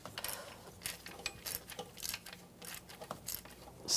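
A ratchet clicks in quick, uneven bursts while tightening the valve cover nuts on a 2008–2013 BMW 328i xDrive engine, quiet and close-up with no talking.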